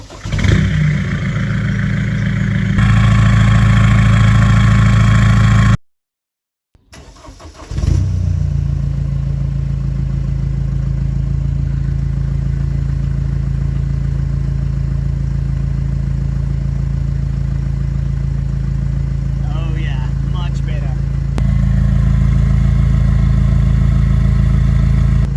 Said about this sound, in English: all of us just want to hear how this thing sounds with the new exhaust